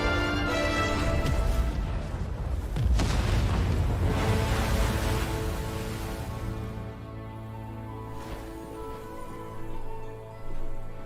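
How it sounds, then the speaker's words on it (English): A big explosion erupts in a long, loud, rumbling roar that stays dense and heavy for several seconds, then slowly thins into a fading rumble with a small late swell. "That was a big explosion."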